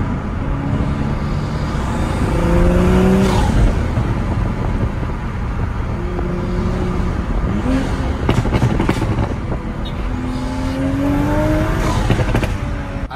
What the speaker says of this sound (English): let's roll down the windows. It's gonna be a little bit more windy, but you will hear the exhaust a bit more now